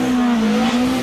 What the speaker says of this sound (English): You can hear the induction of those Weber carburetors spinning the wheels as he leaves the line